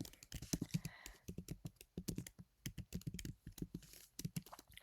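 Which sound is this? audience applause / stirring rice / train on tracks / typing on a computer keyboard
typing on a computer keyboard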